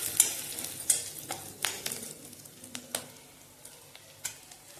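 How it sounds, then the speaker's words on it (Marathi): A spoon stirs crushed peanuts in a pan while making bhagar, giving soft, scattered scrapes and taps over a faint sizzle, quiet and close, with no voices. "आता शेंगदाण्याचं कूट सुद्धा चांगलं मिक्स करून घ्यायचं"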